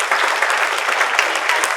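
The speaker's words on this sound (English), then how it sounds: "Can we all give him a round of applause?" Audience applause at an elementary school 50th anniversary celebration, a steady wash of clapping from a crowd filling the whole moment at even loudness.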